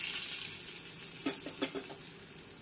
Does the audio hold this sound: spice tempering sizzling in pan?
yes